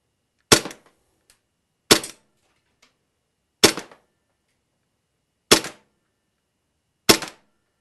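A KWA H&K MK23 airsoft pistol fires five sharp, evenly spaced gas-powered shots at a 30-foot range, each a loud, close crack with a short tail, separated by quiet gaps of about one and a half seconds.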